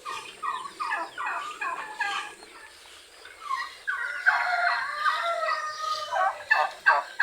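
Several turkeys gobble on a farm, close and loud, their rapid warbling calls repeating in bursts and overlapping throughout with no talking.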